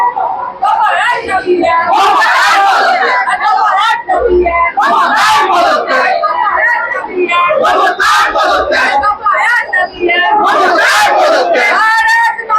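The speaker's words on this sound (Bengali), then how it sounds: "ক্রমাগত মুখ্যমন্ত্রীর বিরুদ্ধে চলছে স্লোগান We want justice." A large protest crowd at Sealdah railway station chants slogans against the chief minister in loud, rhythmic waves of many voices, with shouts and yells rising between the repeated calls.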